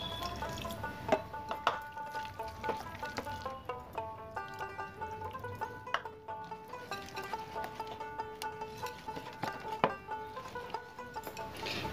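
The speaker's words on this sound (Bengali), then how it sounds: "এর মধ্যে আমি দেব 1/2 কাপ পরিমাণে উষ্ণ গরম দুধ।" Half a cup of warm milk poured into a bowl, a soft liquid trickle and splash with small drips, faint and close.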